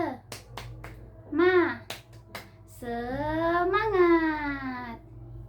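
A short rhythmic clapping cheer in a classroom teaching lesson, a few sharp claps and snaps set between a child's and teacher's chanted voices, close and fairly quiet.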